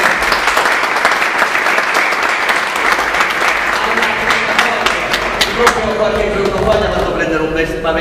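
An audience applauds a choir member, honored as the author of a song, at a concert. The clapping is dense and sustained throughout, and a voice speaks over it partway through.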